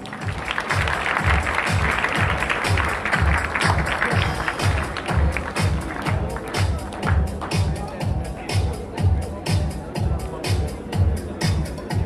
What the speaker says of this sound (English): Ladies and gentlemen, a big round of applause for Mr. Eric Tang.